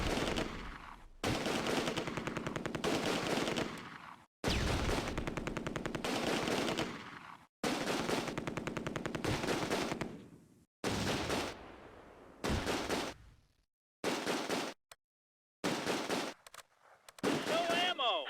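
Sustained MG42 machine gun bursts in the Close Combat wartime game, several long loud rattling volleys separated by brief pauses, then shorter clipped bursts trailing off toward the end.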